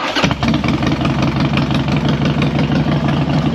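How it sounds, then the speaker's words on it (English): A Harley-Davidson FXDX motorcycle engine, completely cold and still needing choke, catches almost at once and settles into a loud, steady, lumpy idle close by, with no voices. "let's actually see if it'll start on that battery"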